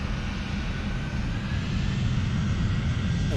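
Steady, loud drone of an FSLabs A321 airliner's engines in Microsoft Flight Simulator 2024, a continuous low rumble with airy hiss that holds level throughout with no voices.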